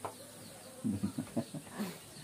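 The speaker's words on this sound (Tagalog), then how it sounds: "Ang manok na mo diri guys, mao na lang duha ka talin" A few soft chicken clucks come in a quick short series, faint and somewhat distant, over a quiet background hiss.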